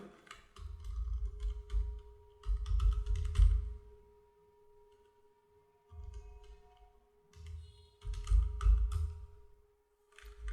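Typing on a computer keyboard into a Google search box, in several clusters of quick taps separated by pauses, close and moderate over a low steady hum.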